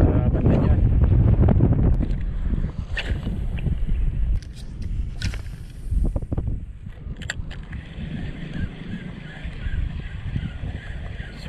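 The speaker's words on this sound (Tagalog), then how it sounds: "Grabe, lakas ng hangin." Strong wind buffets the microphone aboard a small fishing boat at sea near Lapu-Lapu, a loud, continuous roar with gusting bursts and occasional knocks, some talk faintly underneath.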